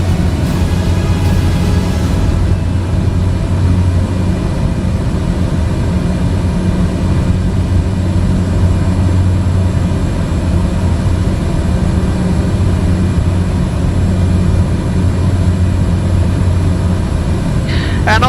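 Propeller aircraft engine in Microsoft Flight Simulator, a steady loud low drone with a constant hum running throughout while the aircraft descends.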